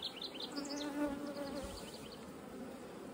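Honeybees hum steadily around a hive outdoors, a dense, moderately quiet buzz with individual bees passing close, and no talking.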